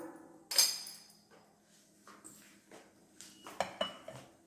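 Clattering of a hard mixer-grinder jar and lid being picked up and set down, a few sharp clinks and knocks spaced out over a quiet room.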